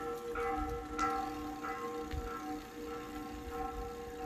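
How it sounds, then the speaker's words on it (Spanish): Church bells of the town square in Chavinda, ringing at dawn to call people to 8 o'clock Sunday mass. The strokes are distant and repeat roughly every half second over a steady ambient hum, with no talk. "Las campanas"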